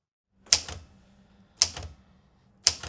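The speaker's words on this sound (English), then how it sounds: "This is a very common type of typewriter, which was very popular in the 1970s and the 1980s." Three sharp mechanical typewriter strikes from a common 1970s–1980s model, spaced about a second apart, each a crisp clack with a brief rattling tail, close and otherwise quiet.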